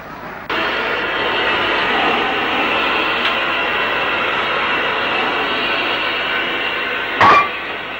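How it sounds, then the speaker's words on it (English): Steam locomotive 3671 runs back along the loop to shunt the goods yard, a steady rushing, rumbling noise starting abruptly and continuing at moderate level, with a brief louder clank near the end. "3671 runs back up the loop to the rear of the train to shunt the goods yard."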